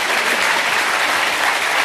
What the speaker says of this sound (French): On applaudit, Zaz.